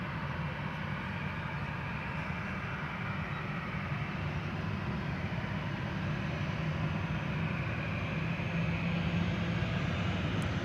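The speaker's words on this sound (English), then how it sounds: "KLM Flight 1231 is coming this way." A KLM passenger jet approaching on a sunny day at Amsterdam Schiphol Airport, its steady broadband engine roar loud and constant throughout, swelling slightly toward the end with no voices.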